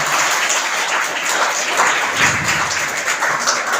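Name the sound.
children clapping loudly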